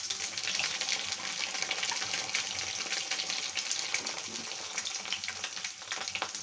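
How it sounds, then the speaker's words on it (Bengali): Salted potatoes fry in a pan for a duck egg korma, a continuous close hiss and sizzle that stays even throughout with no voices. "আলুগুলো আমি ভেজে নেব। আলুতে দিয়ে দেবো একটু লবণ"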